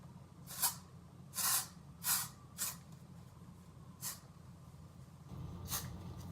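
Five or six short bursts of aerosol hairspray, a couple longer than others, hissing at moderate volume over a quiet background with no talking.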